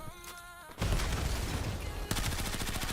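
Rapid bursts of automatic gunfire in Call of Duty Black Ops erupt loudly after a brief quieter lead-in, continuing as dense overlapping shots with a sharper rattling volley near the end.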